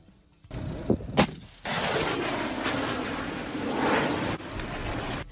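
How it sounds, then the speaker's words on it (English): A rocket launcher fires a missile during a Venezuelan military air-defence exercise: a couple of sharp reports, then a loud sustained roaring whoosh lasting several seconds before cutting off. "This was the first missile fired during the exercises."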